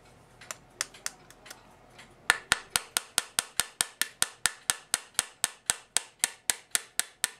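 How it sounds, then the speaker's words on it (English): A hammer taps nails out of a c1950 wooden cuckoo clock case: a few scattered sharp knocks, then a steady rapid series of about twenty crisp, evenly spaced taps, close and clear with no talking. "I'm going to tap these two nails out"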